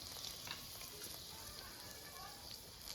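Bay leaves and dried red chilies sizzle in hot oil left from frying katla fish, a dense, crackling hiss that holds steady and close while a voice talks faintly.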